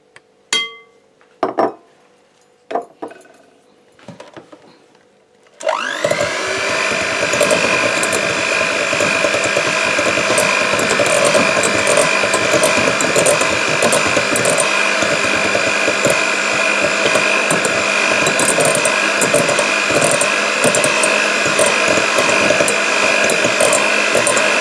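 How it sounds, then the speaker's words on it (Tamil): An electric mixer beating eggs for a dates cake batter: a few sharp clinks, then a loud, steady whirring that runs without a break for almost twenty seconds. "இப்போ 2வது முட்டையும் விட்டு பீட் பண்ணுவோம்."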